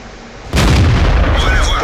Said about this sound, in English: oh, that was an epic shot